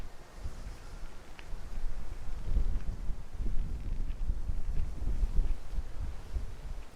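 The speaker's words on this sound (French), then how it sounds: "Il y a un peu de vent" Wind blowing outdoors in a garden, heard as a continuous low rumble of gusts buffeting the microphone with no speech.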